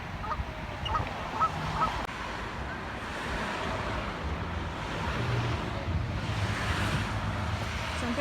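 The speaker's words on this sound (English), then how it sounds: "and some very noisy waterfowl." Noisy geese honk intermittently over a steady wash of surf and wind at the seaside, the birds fairly distant and partly masked by the broadband roar.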